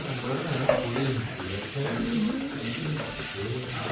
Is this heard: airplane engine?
no